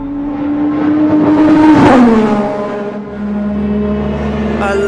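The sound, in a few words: Senna's Formula 1 race car engine revving, driven by Hamilton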